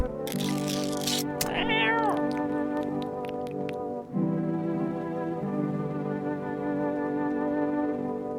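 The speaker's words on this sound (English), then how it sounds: "Hello, cat. Gonna feed you some cat food." A cat in a video game gives a drawn-out, wavering meow, then a couple of shorter mews, close and clear over a steady humming musical backdrop.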